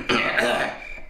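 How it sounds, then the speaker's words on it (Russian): A short cough in a horror video game, one harsh burst followed by a rougher throaty follow-up, close and fairly loud. "Вонючий кашель."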